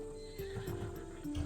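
A Thessalonian horse bred for courage whinnies in the Assassin's Creed Odyssey video game, a drawn-out quavering neigh over a few soft hoof clops, fairly faint and with no talk.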